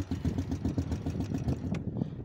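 A motorcycle stuck in a pothole on an off-road jungle track near Syang village in Mustang revs hard. Its engine gives a close, continuous pulsing rumble that fades slightly near the end.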